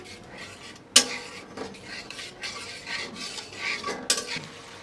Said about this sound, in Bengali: আমি এভাবে মশলাটা নেড়ে কষিয়ে নেবো